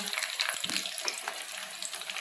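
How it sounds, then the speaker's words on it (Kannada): Food frying in a pan, with a steady dense sizzle crackling close and loud throughout, broken by a few brief stirring clinks near the start. "ಅಷ್ಟು ಫ್ರೈ ಮಾಡಿ"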